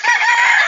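A rooster crows once, loud and close, a brief bright call with no other sound.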